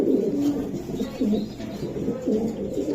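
Racer pigeons in a loft cooing, soft repeated low throaty coos close by against a busy murmuring background, with faint voices underneath.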